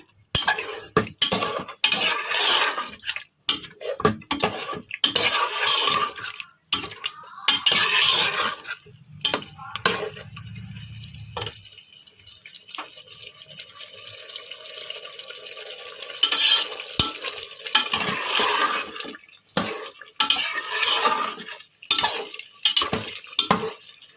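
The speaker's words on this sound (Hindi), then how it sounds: "और इसे अच्छी तरह से भून लेते हैं।" Beef for haleem is fried in a pot and stirred with a metal spoon, with repeated scraping and clinking against the pot over a soft sizzle and a quieter pause in the middle.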